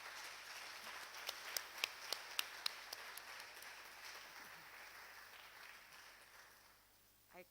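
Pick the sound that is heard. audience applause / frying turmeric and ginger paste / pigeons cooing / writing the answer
audience applause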